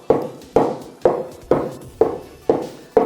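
A cake tin holding batter topped with cashews is knocked against a surface seven times in an even rhythm, each sharp close tap followed by a short ringing decay.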